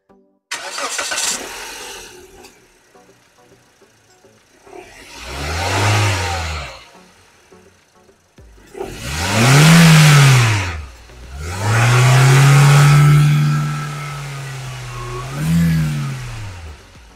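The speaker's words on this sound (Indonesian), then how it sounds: "Kita dengerin suara mesinnya." A 2017 Toyota Sienta V car engine cranks and catches, then revs up and settles several times in loud swelling bursts, close by, with no talking.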